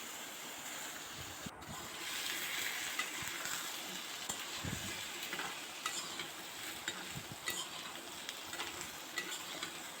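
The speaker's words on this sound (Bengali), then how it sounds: "আলুগুলিকেও ভেজে নিচ্ছি।" Potatoes fry in oil with a pinch of turmeric in a wok, stirred steadily, giving a continuous close sizzle with scraping stir strokes and no voices.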